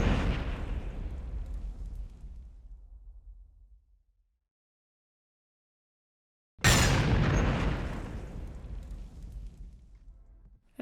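Two heavy explosions, each a loud deep boom with a long rumbling decay, separated by a few seconds of silence.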